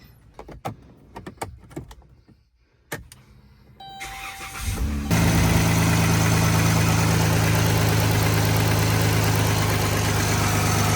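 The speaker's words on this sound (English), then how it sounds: "we're going to turn the engine on and make sure that there's no squealing" A Dodge Caravan minivan engine with a newly replaced serpentine belt cranks to life after some clicks and thumps, then settles into a steady, loud idle with a smooth, even hum and no squeal.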